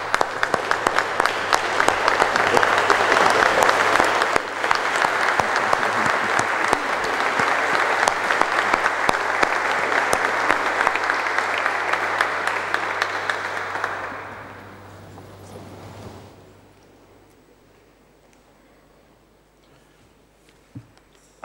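A standing audience at a meeting on globalization applauds loudly and steadily for about fourteen seconds, then the clapping fades quickly, leaving a quiet room with faint murmurs.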